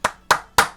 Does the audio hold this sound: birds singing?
no